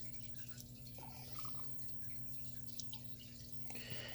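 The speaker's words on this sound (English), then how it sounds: "Let the water drain out of the pump." Water drips and trickles faintly as it drains out of the pump compartment of a small betta fish tank, a few soft splashes over a low steady hum.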